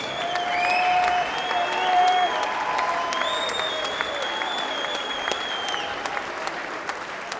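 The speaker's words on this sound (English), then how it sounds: "Please, a huge round of applause for two corners." Crowd applause at a boxing match for a Southern Area super lightweight title bout, with dense sustained clapping and cheering and a few sharp claps, while whistles and shouts rise and fall above it.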